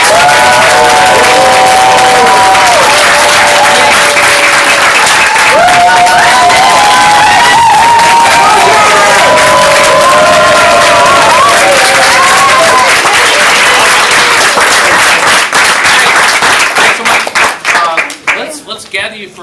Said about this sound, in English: Another huge round of applause for these